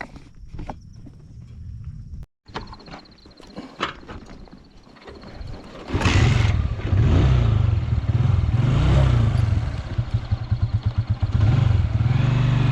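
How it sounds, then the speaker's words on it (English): A motorbike idles quietly with clicks and shuffling, then its engine roars to life and rumbles steadily as it rides off, revving in pulses near the end, on a ride from Joska to Lukenya, Kenya. "I'll be riding it."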